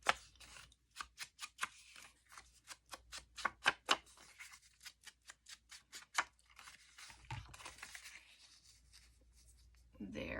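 Paper cutter slicing sheets for a handmade tag and pocket journal: a run of about twenty sharp, crisp cutting strokes in quick rhythm, close and clear, then softer rustling and handling of paper toward the end.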